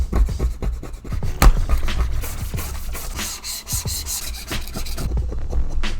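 Leftover adhesive is scraped and rubbed off the inside of an iPad case in quick, uneven strokes, a close, gritty scratching with short bursts and brief pauses.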